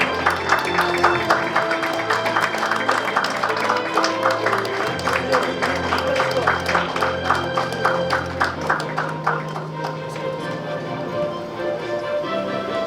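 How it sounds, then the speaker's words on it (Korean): Crowd applause at a peace and security forum in Pyeongtaek, greeting guests as they enter the hall, sustained and dense, with steady rhythmic clapping and low music underneath throughout. "계속해서 따뜻한 박수로 맞이해 주시기 바랍니다."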